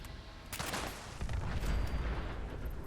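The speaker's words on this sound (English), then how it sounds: "Ah, that explosion destroyed him." In the Fallout 76 video game, an explosion goes off amid gunfire: rapid crackling shots burst out and then give way to a heavy, rumbling blast that lingers at close range with no voices over it.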